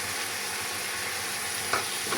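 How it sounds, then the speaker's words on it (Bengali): Tomatoes are stirred into frying masala in a wok, giving a continuous dense sizzle with faint scraping of the spatula and a small clatter near the end. "আমি এটা একটু ভালোভাবে নেড়ে চেড়ে নেব"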